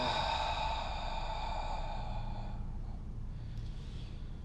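A long, deep exhale during a guided yoga breathing exercise, a soft steady breath that fades out over several seconds, close and unaccompanied by talk.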